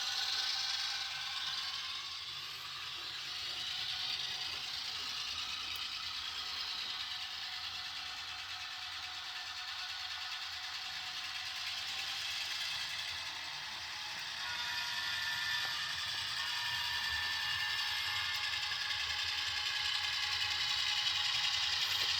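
Atlas MP15DC model train locomotives run along a layout, a faint, continuous mechanical whir and ticking of small motors and gears heard without speech.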